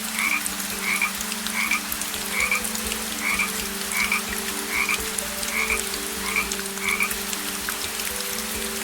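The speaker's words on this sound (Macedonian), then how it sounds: "Ја слушаме жабата како крека." A frog croaks alone in a steady rhythm of about eleven short, clear croaks, each just under a second apart, over a constant low background hum.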